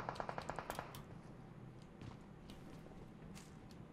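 Gunfire in the mobile battle-royale game PUBG Mobile: a rapid burst of about eight automatic shots at the start, then fainter scattered distant shots over a low ambient rumble.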